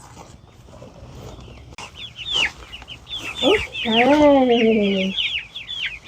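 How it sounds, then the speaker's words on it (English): Young backyard chickens, about six weeks old, cluck and chirp in rising calls close by, building into a loud drawn-out squawk near the end, with a person speaking briefly in between. "let's go meet the chickens"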